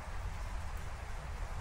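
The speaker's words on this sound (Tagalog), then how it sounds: "Naglakas na gud yung ulan dito." Steady rain falling hard, a dense hiss that runs unbroken and evenly loud through the short stretch, with no voices.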